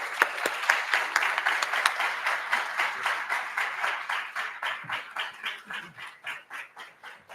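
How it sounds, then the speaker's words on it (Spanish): Applause from a seminar audience for a speaker on entrepreneurship and freedom: close, brisk clapping that gradually thins into slower, more separate rhythmic claps toward the end, with no talking over it. "es el momento de darle un fuerte aplauso al doctor Vargas"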